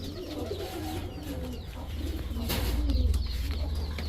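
A pair of Maxi racer pigeons cooing at a pigeon market, with low throaty coos rising slightly in loudness over a constant low background rumble, close by.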